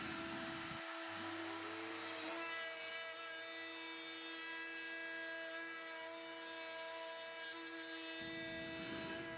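Wood router with a template milling a bowl from wood at medium speed, a loud sustained high whine with strong steady harmonics that holds for several seconds, close and continuous with no talk.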